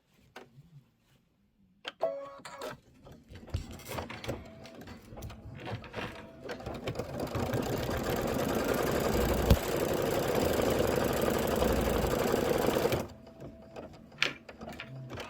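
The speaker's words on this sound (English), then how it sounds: "I'm going to stitch that down." A Kimberbell embroidery sewing machine stitching a pocket pillow, starting after a few clicks and running as a steady, loud, rapid mechanical whir for about eleven seconds before stopping, followed by a few light clicks.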